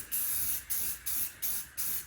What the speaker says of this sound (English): you spray a couple shots in the air just to make sure things are copacetic